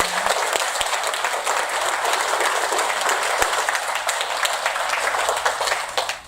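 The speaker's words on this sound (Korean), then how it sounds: "우리 이사장님께 다시 한번 뜨거운 박수 부탁드립니다" Sustained, dense applause from a lecture audience honouring a foundation chairman at a Korean talk event, steady and loud throughout before tapering off at the very end.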